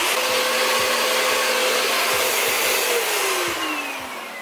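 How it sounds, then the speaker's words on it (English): A vacuum cleaner works on car seats that are about to be spray painted, a loud steady motor roar with rhythmic thumps and shifts in pitch as the nozzle moves, easing slightly at the end. "step 1 is vacuum"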